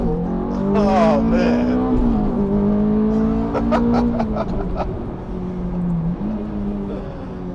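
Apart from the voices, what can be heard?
Ferrari F430 Berlinetta F1 engine revving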